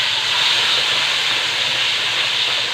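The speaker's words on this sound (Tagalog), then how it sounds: "prito kag isda." Fish sizzling and crackling as it fries in a pan of hot oil, a steady dense hiss that holds loud and unbroken throughout, with no voices over it.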